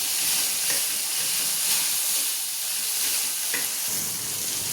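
Tomatoes roast in a pan for tomato thecha, producing a steady loud hiss and sizzle that holds evenly, with a few faint clicks from the pan.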